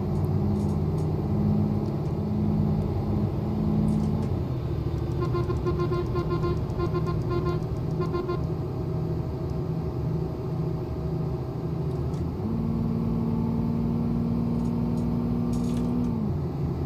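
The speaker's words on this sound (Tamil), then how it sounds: "வண்டி ஃபுல்லாக ரெட் லைன் தான் பண்ணுறோம் இன்றைக்கி." A car engine revs hard toward the red line while climbing a steep slope, a loud steady drone with rising and falling pitch steps, close and continuous with no talking.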